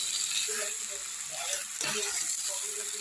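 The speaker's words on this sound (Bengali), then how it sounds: "কড়াইশুটিটা আলুটা দিয়ে এখন অনেকক্ষণ করতে হবে" Green peas and pre-boiled salted potatoes fry in a pan for vegetarian aloo dum, a continuous close sizzle with occasional stirring scrapes throughout.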